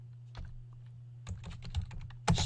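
Keys on a computer keyboard are tapped in short bursts, a few isolated clicks followed by a quicker run of strokes, close and quiet over a low steady hum, with no talking.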